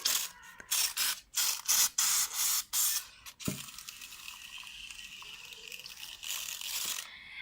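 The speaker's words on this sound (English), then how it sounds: "So what I will do, it is to spray everything." A hand sprayer applying systemic insecticide to orchids hisses in quick rhythmic bursts, then gives a longer continuous spray; the pumping spurts are close and fairly loud.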